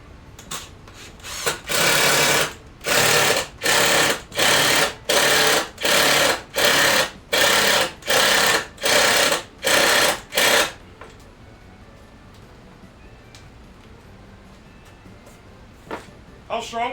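A drill drives into a 2x4 piece of wood in about ten loud, evenly spaced bursts, each under a second long. Quiet follows, with a faint noise near the end.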